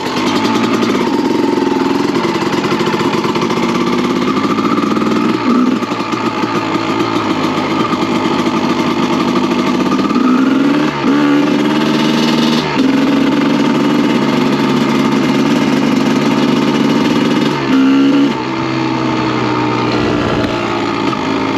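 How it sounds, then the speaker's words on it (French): A Honda 250 CR motorcycle engine idles steadily outdoors in snow while warming up, loud and close, with small throttle blips raising its pitch now and then. "Je fais chauffer un petit peu la bécane tranquillement."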